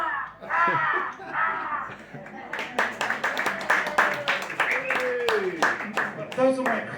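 A person caws in imitation of a crow during a pub performance, a series of harsh rasping calls mixed with clapping and other voices nearby.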